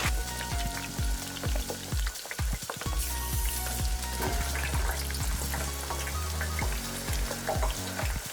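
Food fries on a Sunstone charcoal hybrid grill insert plate with a steady crackling sizzle. Repeated sharp knocks and clatters sound over it, and no one talks.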